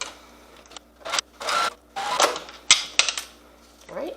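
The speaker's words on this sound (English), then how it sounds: "Now we're going to go ahead and sew at a 1/4 inch seam allowance on the other side." A sewing machine stitches a 1/4 inch seam on a fabric shoulder bag, running in several short whirring bursts with clicks and pauses between them, close up.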